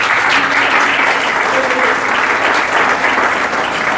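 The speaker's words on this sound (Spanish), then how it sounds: "Dale un aplauso al Señor." Loud, sustained applause from a church congregation in Mexicali during a Spanish-language sermon, a dense steady clapping wash that fills the whole stretch without pause.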